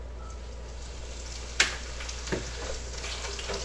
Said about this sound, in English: Let me put the breast in the frying pan